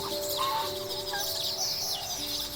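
A few short honks and calls rise from Toulouse geese in a farm flock kept on garden grass, brief and moderately close against continuous outdoor ambience.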